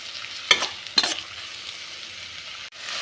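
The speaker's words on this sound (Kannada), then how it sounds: "ಆಯಿಲಲ್ಲೇ ಚೆನ್ನಾಗಿ ಫ್ರೈ ಆಗಬೇಕು" Paddu batter frying in oil in a pan, a steady soft sizzle throughout with two sharper stirring scrapes near the start and a brief dip toward the end, no talking.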